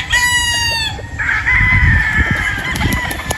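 A Boston Roundhead gamefowl rooster crows close and loud, a long drawn-out call over low background rumble, with no talk.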